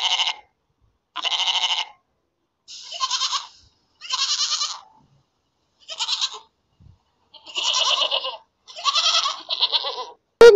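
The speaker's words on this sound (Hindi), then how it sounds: "बकरी ने जोर से अपने मालिक को आवाज लगाई।" A goat bleats loudly in a series of about eight separate calls with short pauses between them, close and clear with no other sound around.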